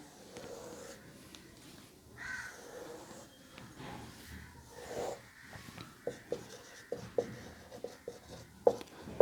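A diagram is drawn by hand for a grade 12 maths exercise, with soft, close scratching and rubbing of pen or pencil on paper, then a run of sharper taps and strokes toward the end, with no speech.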